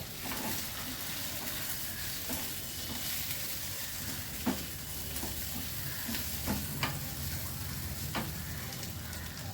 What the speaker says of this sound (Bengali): এবার আমি মশলাটা কষিয়ে নেব।